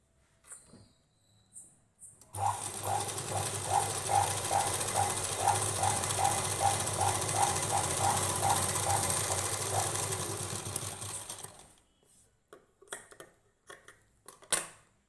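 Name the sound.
sewing machine stitching fabric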